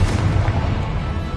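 Loud, dense explosive blast from the fiery Confringo spell in Hogwarts Legacy, a continuous rumbling boom with heavy low-end energy and no clear gaps across the short burst.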